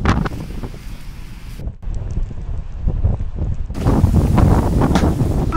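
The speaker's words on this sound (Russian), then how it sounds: "Снежный заряд!" Strong gusting wind of a snow squall on Lake Ladoga buffets the microphone in a loud, roaring rush that drops briefly midway and then surges back harder.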